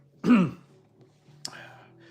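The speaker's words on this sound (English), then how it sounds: "I have to clear my throat a lot more lately" A single short throat clearing from one person close by, with a rough, voiced burst followed by quiet room tone and a faint, softer second sound.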